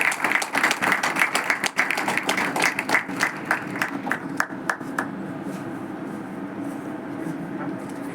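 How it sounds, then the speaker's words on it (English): A small audience at a hospital event claps in scattered, distinct slaps that grow sparser and fade out after about five seconds, leaving a quiet room. "A round of applause."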